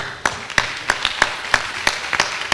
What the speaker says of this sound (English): So let's clap for them again.